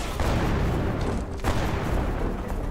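Loud, continuous roar of explosive blasts and crackling bursts, like a barrage of gunfire and explosions close by, with no pauses.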